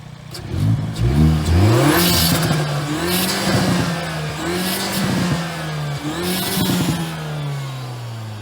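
A car engine revs up and down repeatedly, rising and falling in pitch, with hissy bursts of air from a recirculating Forge blow-off valve with the original pipe as the throttle lifts between revs.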